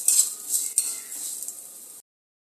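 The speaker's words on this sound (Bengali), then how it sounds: "ডালটাকে একটু সুন্দর করে ভেজে নেব," Dal being stirred and fried in oil with whole garam masala in a pan, a utensil scraping and clinking steadily against the pan for two seconds, close and fairly loud, with no talk.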